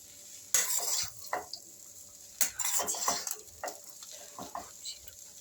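A utensil stirs and scrapes chapati noodles in a pan over a medium flame, making irregular clattering strokes over a quiet sizzle in between.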